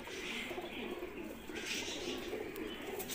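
Soft, low pigeon cooing repeats in a steady murmur, close by, with a faint hiss of background noise and no talking.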